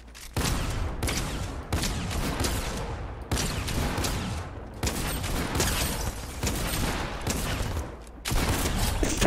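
Rapid bursts of gunfire from the video game Fortnite, with volleys of shots crackling almost nonstop, close and loud, broken by a few short pauses.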